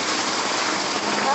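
Heavy rain pouring steadily during a Saturday downpour in Wenceslau Guimarães, a loud continuous hiss of water on surfaces with no break.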